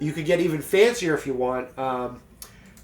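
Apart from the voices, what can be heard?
No everyday noises stand out.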